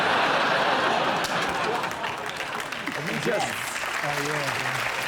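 A studio audience at a British comedy panel show breaks into loud, sustained applause. It thins slightly as a voice begins talking over it near the end.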